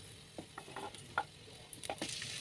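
About four spoons of cooking oil heat in a frying pan, giving a faint, soft sizzle with scattered light ticks and pops, close by and without talk.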